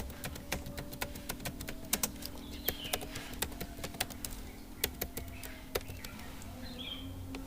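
Crisp, evenly spaced keystrokes on a computer keyboard, a steady run of close, quiet clicks over a low background hum, with no talking.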